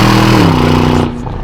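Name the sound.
Aston Martin DBX SUV engine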